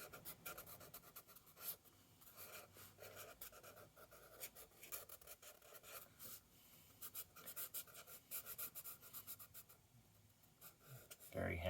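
Pencil sketching a face on paper, blind contour style, with continuous close scratchy strokes and rapid short rubs throughout, faint, with quiet talk underneath.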